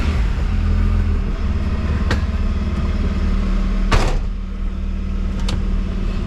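A Toyota Land Cruiser 80 series engine idles steadily and close by, a low continuous drone with a few brief clunks and knocks over it; nobody speaks.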